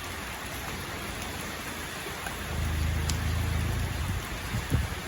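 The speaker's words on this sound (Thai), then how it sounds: "ไม่ได้ไหลสดรือนะคะแม่เพราะว่าฝนตกนะคะฝนตก" Steady rain falls outdoors in the tropics near an elephant's home, a continuous soft hiss with a low rumble swelling in the second half and a brief knock near the end, no one speaking.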